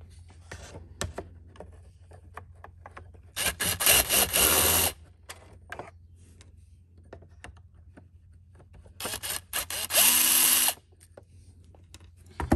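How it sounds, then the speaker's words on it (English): Two bursts of a power drill whirring loudly for about a second or so each, used to start a Poulan BVM200FE blower engine that won't start, separated by quiet clicks and handling noises. "I might try and drill start it just to save my arm a bit"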